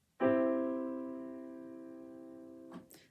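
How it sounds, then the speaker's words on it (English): A single piano chord sounds once and rings sustained for about two and a half seconds, fading slowly before a faint soft noise at the end, with no voices. "That's the sound of dotted half note."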